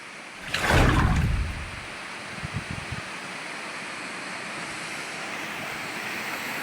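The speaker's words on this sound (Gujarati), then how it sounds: "જોઈ લો મિત્રો, આ જંજીરનો ધોધ છે." The Jamjir waterfall in Gir roars as a constant broad rush of falling water, with a brief louder gust of wind on the microphone near the start.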